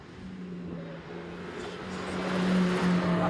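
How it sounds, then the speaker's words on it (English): A Mercedes-AMG GT Black Series drives on a racetrack, its engine a steady drone that builds gradually louder as it accelerates, heard alone without talking. "driving the new AMG GT Black Series on a racetrack"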